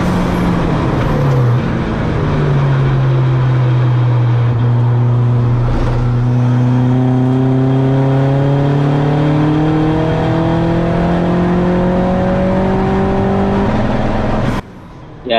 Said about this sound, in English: That limiter's still kicking in.